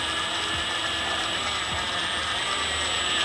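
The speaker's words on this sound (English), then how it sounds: "just obviously lightly use the impact to get it to go in" An impact wrench lightly runs a pulley bolt onto a Subaru STI engine, giving a continuous loud, close mechanical rattling buzz throughout.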